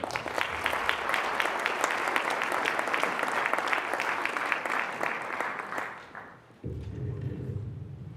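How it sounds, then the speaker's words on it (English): An audience at a Martin Luther King Day celebration in Highland Park applauds the mayor, with dense sustained clapping for about six seconds that fades into a low room murmur. "Give her a round of applause."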